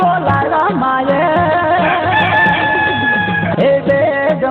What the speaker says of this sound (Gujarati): એ બે ગમના પેટમાં કુકડા બોલાયા.